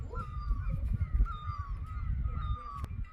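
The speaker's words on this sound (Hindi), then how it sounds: "चारों तरफ इसी पक्षी की आवाज़ है। इसको हमारे यहाँ मिल्ली बोला जाता है" A bird known locally as the milli calls repeatedly in the Pahadi hills, its thin, wavering tonal notes carrying over a steady low rumble of wind.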